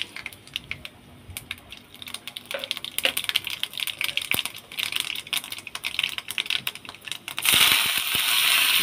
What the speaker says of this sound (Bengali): এবার আমি সর্ষেটা দিয়ে দিলাম।